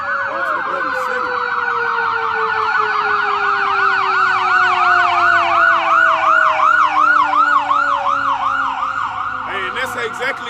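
Emergency vehicle sirens wailing in layered, rising and falling cycles, several overlapping tones sweeping loudly and steadily nearby, with a brief burst of other noise at the very end.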